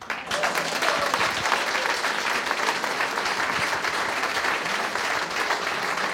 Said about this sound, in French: je demande à toute la salle de vous applaudir.